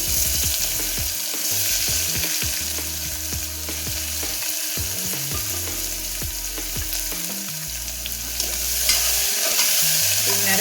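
Big onions frying in oil in a pan for ash gourd kootu, a steady close sizzle with repeated scraping and stirring knocks from a spoon throughout.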